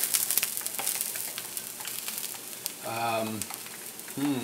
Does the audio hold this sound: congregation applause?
no